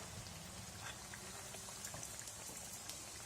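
Potato tikki shallow-frying in a pan, giving a quiet, steady crackle and sizzle of oil throughout with small popping flecks.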